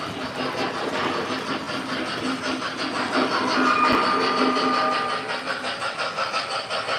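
A model locomotive runs continuously with a steady mechanical rumble and rhythmic clatter, joined partway through by a sustained whistle-like tone, heard up close with no talk.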